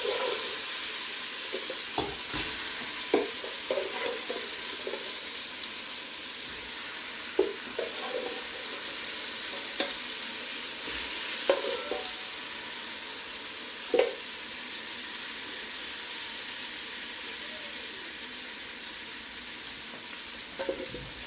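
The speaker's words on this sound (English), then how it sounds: "we just go ahead and put everything in there and then go on stir fry" Squirrel curry ingredients stir-frying in hot grease, a steady close sizzle with occasional clinks and scrapes of stirring, no talking.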